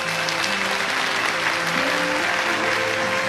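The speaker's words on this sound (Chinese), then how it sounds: "赞同此理的鼓掌" Studio audience applauding on a Chinese television relationship-mediation show, a steady dense wash of clapping filling the whole stretch, loud and close, with a faint voice murmuring underneath.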